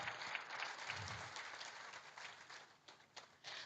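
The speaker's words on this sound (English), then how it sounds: "Please, let's clap." Sustained applause from a convocation lecture audience fills a large hall, steady and fairly distant, with scattered individual claps standing out and thinning slightly toward the end.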